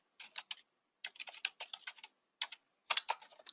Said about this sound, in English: I'll just type in the word stock dimension.